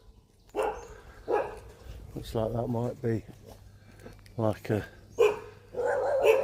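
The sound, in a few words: dogs barking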